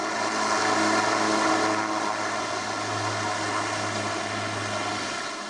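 A propeller airplane drones steadily overhead near Kathmandu, a broad continuous engine roar with a low throbbing hum that stays loud and fairly close before easing slightly at the end, with no voices.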